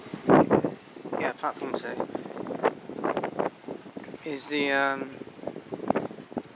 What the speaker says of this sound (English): it's so windy. The wind's getting in the way of my talking